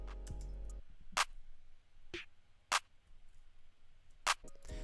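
Clap and snare samples from a Cordy Rage kit in a hyperpop beat: sharp, bright hits about every half second to second, each short and crisp, with a low sustained tone at the start, standing alone without talk.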